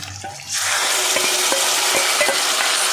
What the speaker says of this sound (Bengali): এবার দিয়ে দেবো ক্যাপসিকাম কুচি, দিয়ে একটু 2 মিনিট ভেজে নেব।